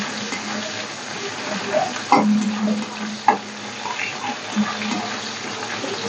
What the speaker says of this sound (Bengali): এটা একটা সুন্দর গন্ধ বেরোলে আমি এই পেঁয়াজটা একটু ভেজে নেবো।